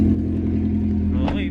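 A 1999 Honda Civic SiR with a B16 engine runs close by, its steady idle hum holding, then a quick rev rising near the end, loud and alone.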